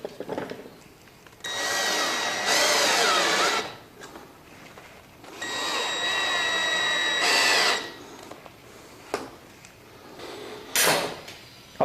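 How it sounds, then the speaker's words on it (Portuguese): A power drill bores a hole for a concealed cup hinge on a bathroom cabinet, running in two whirring bursts of about two seconds each, separated by quieter handling noise. "Eu estou fazendo o furo bem no meio do buraco, mas ele proporciona um certo ajuste"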